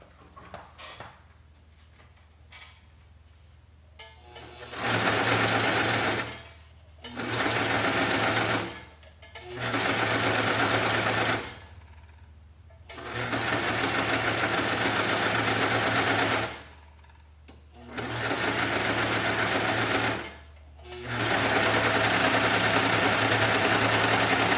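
A serger sewing machine runs a chain stitch in six loud, steady bursts of whirring with short pauses between them, with no talking.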